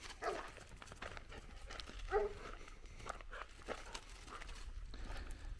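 Dogs on a Mediterranean farm give a few scattered barks and whimpers, moderately near amid rustling footsteps and outdoor ambience.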